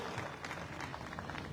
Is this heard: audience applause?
yes